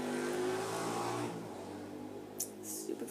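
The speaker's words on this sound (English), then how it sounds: "Stupid four-wheelers." An ATV four-wheeler engine revs outdoors, a loud, rising roar that fades as it moves away, followed by faint distant noise.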